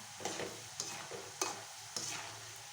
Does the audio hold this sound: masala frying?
yes